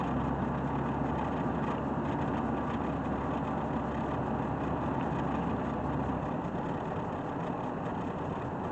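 A 2004 Toyota Tacoma pickup's engine drones steadily from inside the cab on a test drive after front brake and rotor replacement, a loud continuous low rumble with road noise, no talking.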